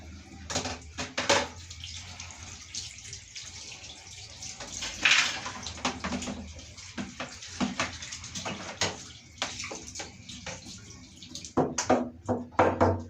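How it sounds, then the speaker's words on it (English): Water runs from a tap in uneven bursts while a chopping board is rinsed and scrubbed, with clatters and splashes near the sink and no talking. "So let me clean my chopping board."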